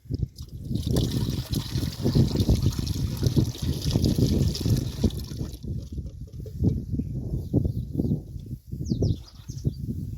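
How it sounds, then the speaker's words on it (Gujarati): Half a litre of cow urine poured out in a village garden, mixed for spraying vegetables: a steady close trickle and splash of liquid running for several seconds, with faint bird calls at the end. "આ છે ગૌમૂત્ર 1/2 લીટર જેટલું ઈ નાખી દેવું"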